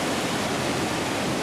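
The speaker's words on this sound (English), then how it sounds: "Off to the left is this amazing valley full of waterfalls." Waterfalls in a valley in the high Andes give a dense, steady rushing roar, broad and unbroken like constant falling water, with no voices.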